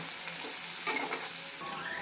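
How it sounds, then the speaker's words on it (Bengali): Chopped onions fry in hot oil with black mustard seeds, giving a bright, unbroken sizzle heard up close and alone, with a few faint stirring scrapes underneath. "এবার দিয়ে দেবো আমি পেঁয়াজ আমি এটাকে একটুখানি ভেজে নেবো"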